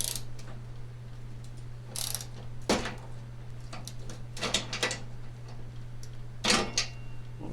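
A socket wrench ratchets on bolts of a 42-inch mower deck in short bursts of clicking, several separate cranks spaced over a steady low hum.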